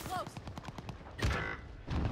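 Gunfire in a first-person shooter game, a rapid burst of closely spaced shots followed by two heavier blasts, close and fairly loud, with voices mixed in.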